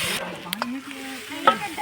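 Gota fritters frying on a gas stove, with a soft continuous sizzle and a few sharp clinks or scrapes, close and fairly quiet, with no talk.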